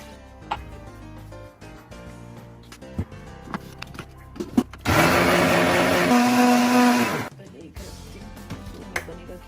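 A kitchen blender whirs loudly for about three seconds while blending a chocolate milkshake, rising in pitch before cutting off, with soft clatter and handling noises before and after.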